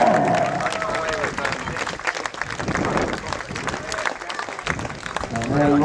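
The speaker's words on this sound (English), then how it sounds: "Big round of applause" A crowd applauds cyclist Steve Dring at the Cricklade Kermesse 50-mile road race, scattered clapping and cheers running under a loudspeaker announcer talking over the top.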